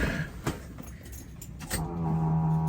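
Keys jangle in the ignition of a 1972 Mustang Mach 1, a few metallic clicks and rattles close by, then a steady low hum builds as the ignition comes on.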